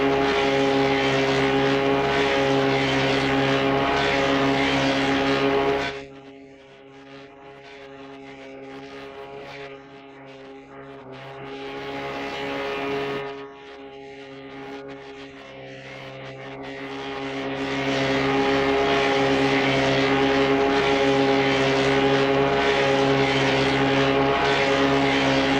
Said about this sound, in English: As both model and blank rotated together, cutting tools gradually removed excess material.